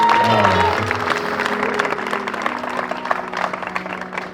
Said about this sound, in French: Acclamons le Seigneur pour être encouragé.